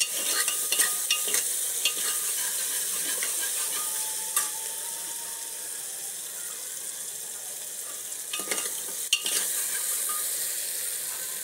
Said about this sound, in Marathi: आता त्याच्यामध्ये मी टाकत आहे 1 चमचा जिरा पावडर. जिरा टाकत आहे अख्खा.